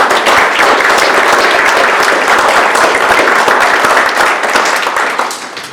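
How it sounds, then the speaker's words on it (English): Audience at a county board of supervisors candidate forum applauds the candidates: sustained, loud, dense clapping from a crowd, fading slightly toward the end. "so I want to give them a round of applause."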